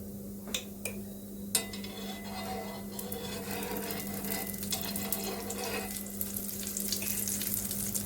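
Ghee sizzles around a sweet bajra and jaggery roti on a pan, a soft continuous frying hiss with a few clinks early on, quiet and close.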